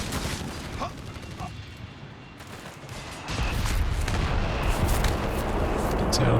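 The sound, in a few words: artillery barrage called in by a captain, from video game Company of Heroes 3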